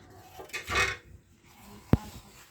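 A ghee-greased baking tray handled in a kitchen while making basbousa, giving a soft metallic scrape followed by a single sharp clank of metal, close and fairly quiet.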